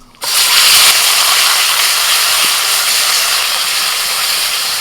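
Wet black gram paste drops into hot oil tempered with dry red chillies and nigella seeds, bursting into a sudden loud hiss that holds as a dense, steady sizzle for several seconds, close and without voices.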